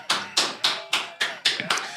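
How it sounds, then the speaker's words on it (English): Round of applause at a podcast taping, heard as a short run of sharp, evenly spaced hand claps, loud and close, about eight in two seconds with no talking. "round of applause"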